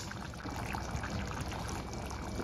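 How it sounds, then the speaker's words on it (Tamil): Water poured into simmering Chettinad cabbage kurma in a kitchen pot, a steady close liquid rush and trickle lasting a couple of seconds, faint and alone. "ரொம்ப திக்காக இருந்ததுன்னா கொஞ்சம் தண்ணி ஊற்றிக்கங்க"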